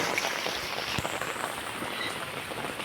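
Flood water running down into a street drain hole, a dense continuous splashing and trickling wash with one brief thud, close by and without talking.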